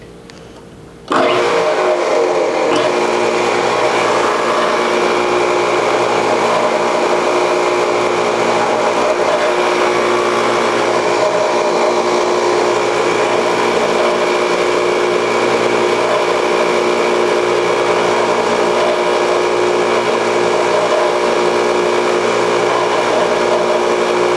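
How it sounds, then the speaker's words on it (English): A power drill starts abruptly and whines at a steady, high pitch for a long continuous stretch, loud and close. "Now I'm going to drill the 2 holes so I have the perfect match."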